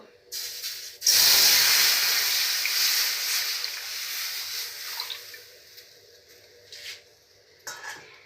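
Milk hits a hot kadai with a sudden loud hiss that swells, then slowly fades into softer bubbling and sizzling, with a few brief clinks toward the end.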